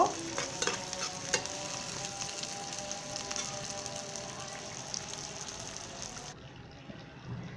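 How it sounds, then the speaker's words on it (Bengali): Green chillies, onion, chopped garlic and four dried red chillies frying in hot oil until browned, with a steady, close sizzle and occasional stirring clinks that run continuously before thinning out near the end. "আমার ফোড়নটা ভাজা ভাজা হয়ে গেছে, বাদামি কালার হয়ে গেছে"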